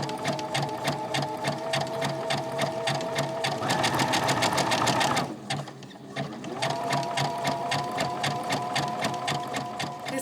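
A sewing machine zigzag-stitches millinery wire onto a hat brim, running close and loud in a fast, even mechanical chatter, pausing briefly mid-clip before starting up again.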